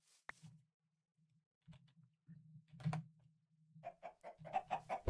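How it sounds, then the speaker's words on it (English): Chickens cluck in a Minecraft game modded with Thaumcraft, short faint clucks scattered among soft low game hum, then a quicker run of clucking toward the end. "Didn't even hit the fucking chicken."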